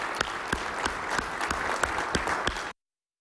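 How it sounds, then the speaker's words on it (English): Audience applause at a conference keynote: a moderate, steady patter of clapping from a large crowd with sharp individual claps standing out, cutting off abruptly near the end. "Give yourselves a really warm round of applause, all right?"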